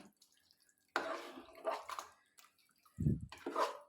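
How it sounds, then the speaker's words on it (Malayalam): Water from rinsing a jar is poured into beef in a pot, heard as a few short splashing pours and trickles separated by near silence, with no talk. "ഇതിപ്പോൾ ഞാൻ ജാറ് കഴുകി എടുത്ത വെള്ളമാണ്"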